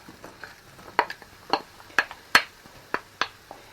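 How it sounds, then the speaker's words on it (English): Frozen Quorn mince sizzling in a pan while a utensil breaks it into small chunks: sharp scraping clacks land about every half second over a faint frying hiss. "you want to break it up so that it's into quite small chunks, and fry it off until it's browned"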